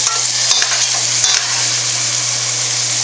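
Noodles sizzle and fry in a hot skillet, with a steady hiss broken by a few sharp scrapes of stirring, close and loud, no voices.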